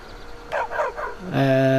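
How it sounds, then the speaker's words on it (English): A dog in Skyrim gives a few short barks and yips in quick succession, followed by a sustained tonal whine or howl, close and fairly loud. "she will also come with her own dog, which is this dog just up here"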